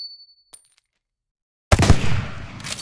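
Metallic clicks and a small ringing casing tinkle are followed by a sudden loud gunshot blast with a rattling mechanical tail.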